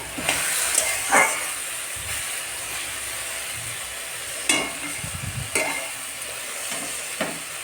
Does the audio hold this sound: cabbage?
yes